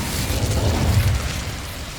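Incendio fire spell cast in Hogwarts Legacy, a dense roaring whoosh of flame with a low rumbling boom, loud and close for about two seconds.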